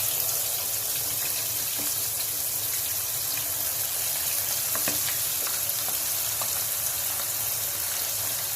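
Marinated chicken tikka fries in a pan over a low flame, giving a steady, soft, continuous sizzle with occasional small pops and no voices.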